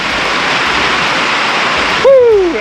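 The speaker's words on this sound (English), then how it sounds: "here comes the heavy rain" Heavy rain pours down steadily outdoors over a grassy, weedy field, a dense continuous hiss that ends with a short whooping voice cutting through near the end.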